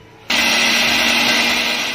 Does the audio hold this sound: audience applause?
no